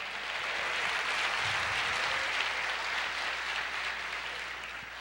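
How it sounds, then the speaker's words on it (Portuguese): A large church congregation claps continuously, a dense, steady wash of applause that holds level and tapers slightly toward the end. "Você pode dar uma salva de palmas para Jesus?"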